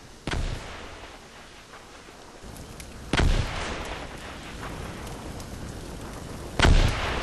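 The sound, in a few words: mortars firing in the video game Combat Mission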